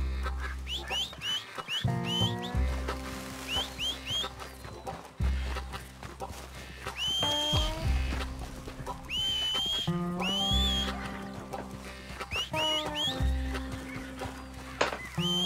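A horse in Red Dead Redemption 2 whinnies and clip-clops at a steady pace, with birds and rooster-like calls in the background of the game world, all fairly close and loud.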